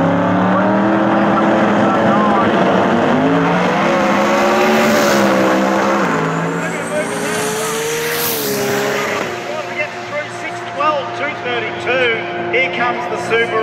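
A Subaru drag racing car roars past at Sydney Dragway, a loud, high-revving engine whine that sweeps in pitch as it passes, then fades into crowd noise and talk.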